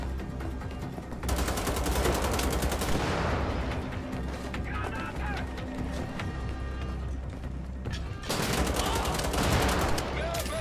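Sustained automatic gunfire in the shooter game Wolfenstein, dense rapid bursts filling the scene with only a short lull before the firing resumes, loud and continuous.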